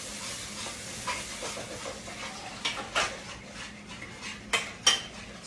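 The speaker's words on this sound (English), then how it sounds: "Stir that up good." A utensil stirs a sugar, butter and milk custard mixture for banana pudding in a pot. Soft scraping and clinking sounds recur, with a few sharper taps against the metal, and no voices.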